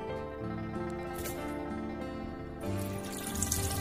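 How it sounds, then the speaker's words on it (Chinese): Running tap water rinsing pork belly, a soft steady trickle and splash that grows a bit louder and busier toward the end, fairly quiet overall with faint background tones. "然后用流动的清水把表面的浮沫清洗干净"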